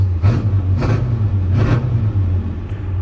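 A square-body truck's engine idles with a deep, steady rumble, and three short revs rise out of it in the first two seconds before it settles back to a constant idle.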